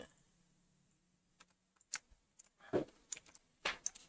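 Someone types on a computer keyboard in a quiet room: sparse, irregular clicks and taps, a few single keystrokes followed by a quicker cluster, close but soft.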